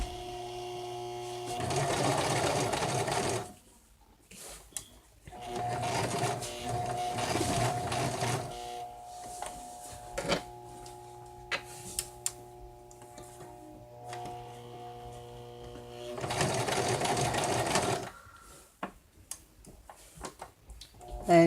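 Electric sewing machine stitching fabric for a stuffed bear, running in three loud, steady whirring bursts separated by quieter gaps with scattered clicks and light handling noise.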